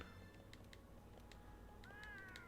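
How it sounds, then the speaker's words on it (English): A house cat meows once or twice, faint and somewhat distant, over a soft steady background hiss with light clicking. "Meow. That's my cat right now."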